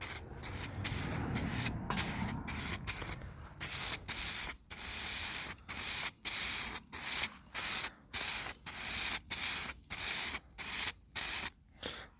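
Spray paint from an aerosol can being applied to moped parts, a 103 SPX, in repeated hissing bursts about a second long separated by short pauses, close and loud, with no talk.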